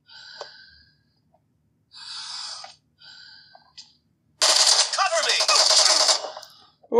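Automatic gunfire from the PUBG mobile game on a Realme 6 phone, a dense loud burst lasting about two seconds after a few short quieter game sounds, with no talk over it.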